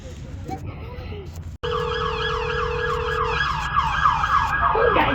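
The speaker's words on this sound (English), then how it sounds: "There come the more ambulances and cops and everything." Ambulance and police car sirens arriving at a neighboring house, loud wailing tones sweeping up and down, layered and overlapping, rising in strength as the emergency vehicles draw near, with a vehicle engine rumbling beneath.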